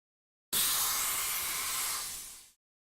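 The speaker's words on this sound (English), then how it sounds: "That steam noise, I can never forget that sound." A steam-driven servant character in a video game lets out one sustained steam hiss, a bright rushing blast that starts abruptly, holds for about two seconds and then fades out quickly, heard alone.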